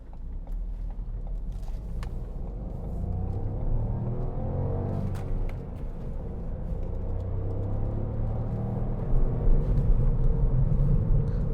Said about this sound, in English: This little 1 litre engine.